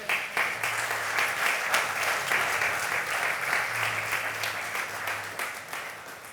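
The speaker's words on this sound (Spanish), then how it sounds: "Dele un aplauso al Señor." Applause from a church congregation during a sermon, many hands clapping in a full, sustained roar for several seconds, with a faint low hum underneath and the sound easing slightly toward the end.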